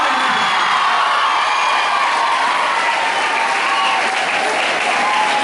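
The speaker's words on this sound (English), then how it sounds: "Can we have a loud clap?" Loud, sustained applause and cheering from a large crowd of school students honouring the winners of an all-Goa quiz competition, a continuous roar of clapping with shouts and whoops mixed in.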